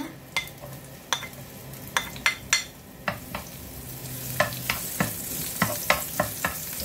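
Onions frying in a hot pan, a steady sizzle with repeated sharp scrapes and clinks of a utensil stirring against the pan, fairly close and with no talking.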